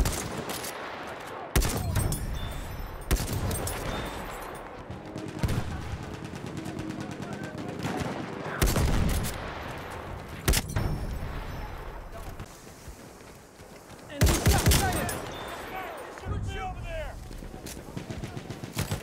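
Machine gun fire in the Battlefield 1 war game, loud bursts of rapid gunfire breaking out again and again. Heavy rumbling battle noise fills the gaps, and voices shout in between.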